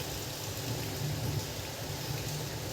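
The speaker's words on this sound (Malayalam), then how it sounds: "പുറത്ത് നല്ല മഴയുണ്ട് കേട്ടോ" Heavy rain pours down outdoors as a loud, unbroken roar with a low rumble underneath, steady from start to finish with no voices.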